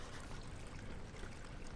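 Water pours steadily indoors like a small waterfall inside a house in the horror game Amnesia, a continuous faint rushing hiss with no other sounds.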